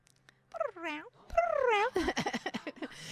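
A cat meows at an adoption and fostering fundraiser event, with two drawn-out rising and falling meows close by, followed by a person talking.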